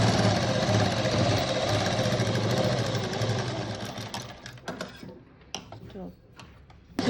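A sewing machine stitches the waistband of a boat neck blouse with a steady motorised whirr for several seconds, then slows and stops, leaving scattered small clicks and handling knocks.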